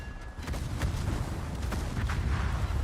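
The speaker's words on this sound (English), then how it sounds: "There's the Aegir torpedoes." Torpedo hits in the naval battle game World of Warships, launched by the ship Aegir: a run of heavy low booms and rumbling blasts close together over about three seconds.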